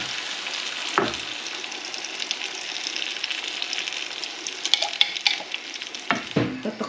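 Egg frying in a pan with tomato for ginisang tomato with egg, a steady close sizzle with scraping stirs and clinks of the utensil throughout, louder stirring bursts near the end.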